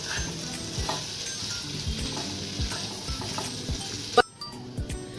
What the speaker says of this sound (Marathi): आता हे सर्व आपण एकत्र छान मिक्स करून घेणार आहोत.